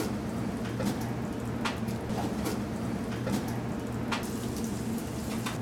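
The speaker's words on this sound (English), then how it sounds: "if I put my breadcrumbs in there, they're going to start sizzling" Steady crackling sizzle of breadcrumbs frying in a hot pan, with scattered pops over a constant low hiss.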